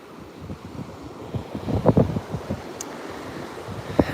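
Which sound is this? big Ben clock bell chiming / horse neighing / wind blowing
wind blowing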